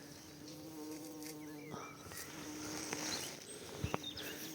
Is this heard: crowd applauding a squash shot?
no